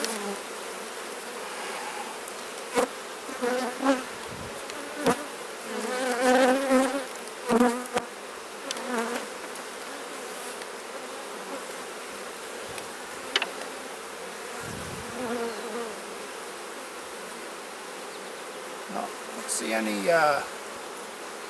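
Steady insect buzzing of many honeybees around an open hive fills the background, with occasional clicks and knocks and a brief spoken word near the start.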